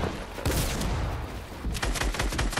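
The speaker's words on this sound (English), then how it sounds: "Just got sniped." Gunfire in the Fortnite video game during a sniper engagement, a burst of loud sharp shots with a dense rattling run of fire after a brief pause, close and harsh, no speech.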